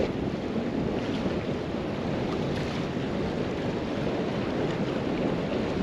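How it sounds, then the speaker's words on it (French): Strong wind and choppy swell around a sailboat at anchor off Moorea as a storm passes, with current running against the wind, a constant dense roar of gusts and water buffeting the microphone without a break. "on a maintenant un peu plus de vent et la houle un peu parce qu'il y a le courant contre le vent"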